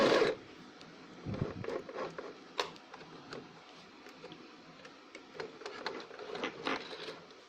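A sewing machine stitches fabric for a scrunchie, its needle running in quick, light mechanical bursts with small clicks and pauses, close and fairly quiet with no talking.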